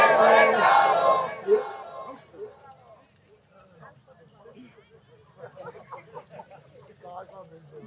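A crowd at an outdoor Islamic religious sermon roars a loud, unified takbir response that swells then fades, followed by scattered, quieter voices and murmurs from the gathering.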